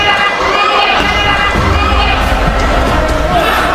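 A crowd screams and cheers at a boxing match in the Bohol Cultural Center. The roar is loud and continuous, close to the listener, with voices talking over the noise.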